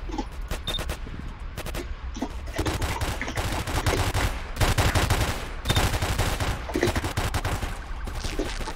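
Rapid, sustained minigun fire in a crowded Roblox shooter server, dense continuous bursts running throughout at steady loudness with brief pauses, no talking.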